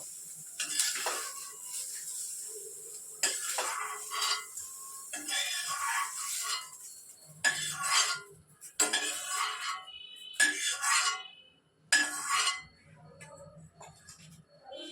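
Fried brinjals are lifted out of a pan with a utensil, making intermittent metallic clinks and scrapes in short bursts with quiet gaps between them.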